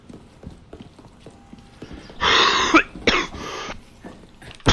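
A man coughs hard twice in a row, close to the microphone, over quiet background game sounds.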